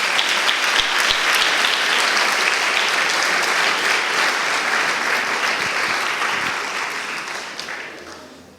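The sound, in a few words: applause for a graduate at a ceremony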